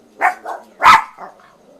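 A small dog barks from across the street, giving a few short yaps of uneven spacing at moderate distance, with no talking over them.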